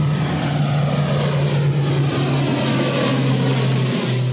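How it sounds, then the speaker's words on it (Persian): An ATR 72 turboprop airliner takes off from Tehran's Mehrabad airport, its propellers and engines producing a loud, steady droning roar with a strong low hum that holds throughout. "هواپیما بعد از 2 ساعت تأخیر بالاخره بلند می شود."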